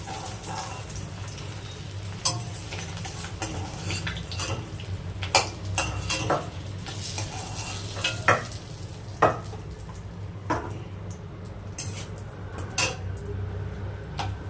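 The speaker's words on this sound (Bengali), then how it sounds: "ডিমগুলো ভাজা হয়ে গেছে, ডিমগুলো এবার তুলে নিচ্ছে" Eggs fry in oil in a pan as a steady sizzle, while a spatula scrapes and clinks sharply against the metal now and then as they are turned and lifted out.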